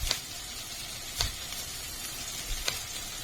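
Chopped fresh mint frying in a pan of vegetable pulav, a soft steady sizzle broken by three brief stirring clinks, quiet and close.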